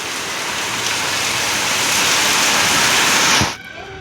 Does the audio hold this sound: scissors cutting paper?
no